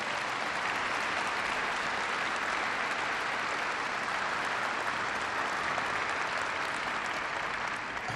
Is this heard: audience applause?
yes